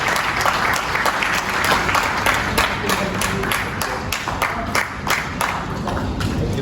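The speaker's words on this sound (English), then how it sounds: "big round of applause to Premium India Travels" A crowd applauds steadily at an award ceremony, dense clapping sustained for several seconds without pause.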